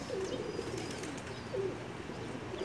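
Pakistani pigeon giving soft, repeated low coos over a faint, steady background hiss, with a few light chirps mixed in.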